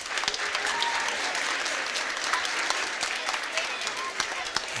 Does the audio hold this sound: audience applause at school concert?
yes